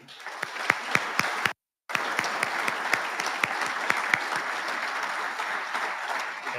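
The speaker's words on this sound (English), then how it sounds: "Please give a round of applause" A room full of people at a Marine Corps awards dinner applauds steadily, with a dense wash of clapping and a few sharp claps standing out, briefly cut off before resuming.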